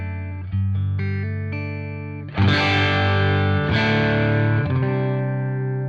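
Electric guitar through a Fender Bassman amp, slightly overdriven and fat, plays a few picked notes and then two loud strummed chords that ring out with a gritty edge.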